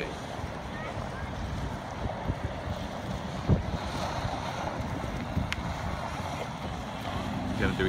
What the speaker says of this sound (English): I just love that it's powered by that jet ski.